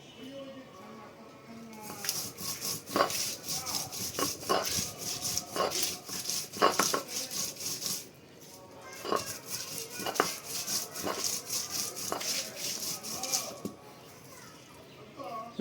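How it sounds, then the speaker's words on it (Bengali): Dried fish is ground together with dried chili, green chili, garlic and onion, giving uneven scraping and pounding knocks in bursts while someone talks over the work. "শুকনো মরিচ, কাঁচা মরিচ, রসুন, পেঁয়াজ আমি একত্রে বেটে নিচ্ছি, আর সাথে এই যে শুটকি"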